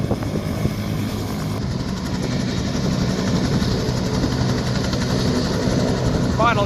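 A Bell 222 helicopter idles on the ground at a pilot-training airfield before takeoff, its steady low rotor and turbine drone running continuously and loud throughout.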